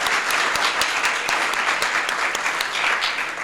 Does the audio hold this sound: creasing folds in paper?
no